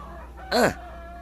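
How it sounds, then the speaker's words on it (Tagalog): A single short rooster crow rings out once, fairly close, rising and falling over a quiet background. "di mo mangmangag dagiti taraok ti manok"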